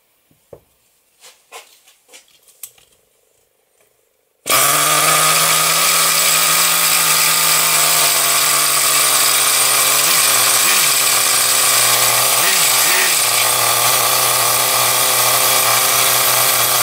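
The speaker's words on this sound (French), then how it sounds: "comment on démarre un moteur facilement" Nitro RC car engine catches after a few quiet pull-start tugs, then runs loud and steady with a high, buzzing two-stroke whine, close by, with small throttle blips near the end.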